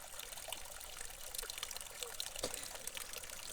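Water pours steadily into a pot on a farm in the morning, a continuous close trickling splash with no talk, one brief louder splash near the end.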